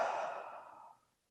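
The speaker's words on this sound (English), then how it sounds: "Breathing in." A person draws one slow, soft breath during meditation, heard up close in quiet surroundings; the breath fades out after about a second.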